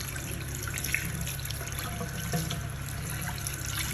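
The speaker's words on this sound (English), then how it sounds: "I'm just gonna turn my water on" Tap water runs steadily into a bathroom sink, a soft continuous splashing stream heard close by and fairly quiet with no talking.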